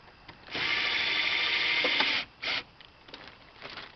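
A power driver whirs for about a second and a half while tightening a reach arm mount, followed by a short second burst and faint clicks, fairly quiet and close.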